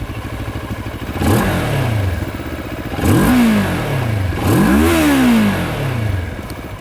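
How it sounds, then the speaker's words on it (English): A 2022 Moto Morini X-Cape 650X parallel-twin adventure motorcycle engine is revved three times from a lumpy idle. Each blip rises sharply in pitch and falls back, loud and close, with no talking. "What you effectively get is a parallel twin motor that puts out 60 horsepower and 54 Newton meters of torque"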